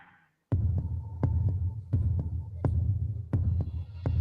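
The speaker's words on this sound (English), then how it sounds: "Oh my goodness, like a heartbeat." Heartbeat sound played back from a video, a steady run of deep thumping beats, loud and close over a low hum, with no talk.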